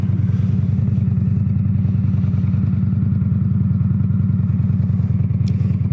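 A motorcycle engine idles steadily and loudly up close on a cold morning before a ride, its low, rapid pulsing throb continuous throughout with no voices.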